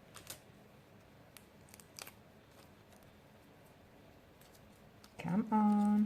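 Scissors snip a few times while trimming edges during resin coaster crafting, sharp quiet clicks spread across a hushed room before a loud tonal noise at the end.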